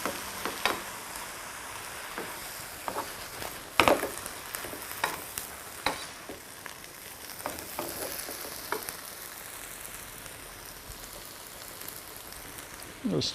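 Vegetables slowly cooking down in a pan for a spinach and green herb gnocchi, a steady close sizzle and hiss with occasional stirring scrapes and soft ticks throughout.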